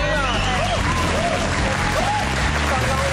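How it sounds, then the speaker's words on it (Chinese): An audience bursts into applause, a dense, steady patter of many hands clapping that fills the whole moment at moderate loudness. "真 man 啊，掌声。"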